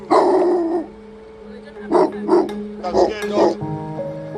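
Dog trapped inside an overturned car after a crash, barking and yelping in several short bursts, fairly close, while a person talks nearby.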